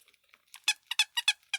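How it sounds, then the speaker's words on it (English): Squeaky plastic foam children's book squeezed by hand, giving a quick series of about five or six sharp, high rubbery squeaks in an uneven rhythm, close and fairly quiet with no talk. "squeaky books, like they're the plasticky, foamy, squeezy books"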